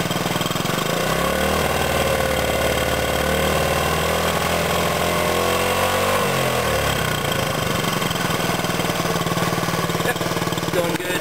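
A Honda CT90 motorcycle engine runs loud and close, its pitch climbing as it revs up, holding high, then dropping back toward a rough idle.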